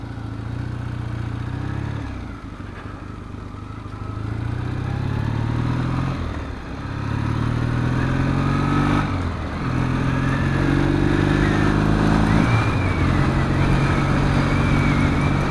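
A motorcycle engine, started with the cable choke on, revs hard and repeatedly, its pitch climbing and falling in surges over a steady loud idle, close by with no talk.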